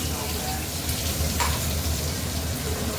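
Onions sizzle steadily in a hot pan while cooking a Bengali prawn and Malabar spinach dish, a dense continuous frying hiss with a faint voice in the background.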